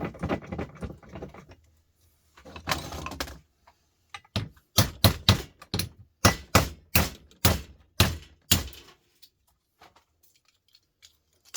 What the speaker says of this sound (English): So what we do is we'll hit that with the hammer.